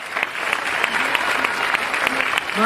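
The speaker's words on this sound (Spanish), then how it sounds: "Un aplauso fuerte," Applause from the audience at a beauty contest in Cuetzalan, a steady, dense wash of clapping that carries on through the whole stretch, with a few voices faintly underneath.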